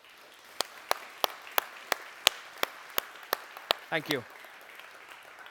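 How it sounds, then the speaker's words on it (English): Applause from a church audience celebrating people who finished Financial Peace University comes as a run of faint, evenly spaced single claps, followed by a brief spoken thanks. "would you give these people a round of applause, please?"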